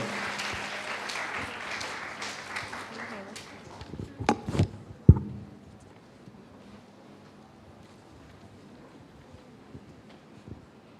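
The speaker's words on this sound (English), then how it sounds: "Please give them a round of applause, too." Audience applause at a school club expo, a dense burst of clapping that fades out over the first few seconds, followed by a few louder handling knocks and then near quiet.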